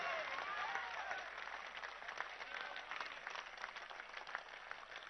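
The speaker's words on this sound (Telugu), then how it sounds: "మీ 2 చేతులు ఎత్తి చప్పట్లు కొట్టి ఈ వ్యక్తిని మీరు ఆదరిస్తున్నారు." Sustained clapping from a political rally audience in Andhra Pradesh, a broad, crackling sheet of many hands with faint whistles, steady and moderately loud for the whole stretch.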